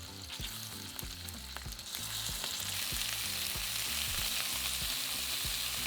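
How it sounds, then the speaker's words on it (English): Chunks of pork shoulder, seasoned with salt and pepper, sizzle steadily as they brown in a hot pan, with a dense frying hiss and low knocking thuds from the meat and utensil, growing slightly louder midway and continuing alone without talk. "We want to brown the meat on both sides, which should take about 5 to 6 minutes."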